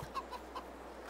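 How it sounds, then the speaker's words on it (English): Chickens in the video game Farming Simulator 22 cluck a few times in short calls over a steady farmyard background. "We got chickens. That is awesome. I love it. There's the rooster."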